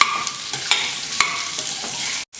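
Pumpkin being stirred in hot ghee and spices in a pan, with a continuous sizzle broken by a few soft scraping strokes up close.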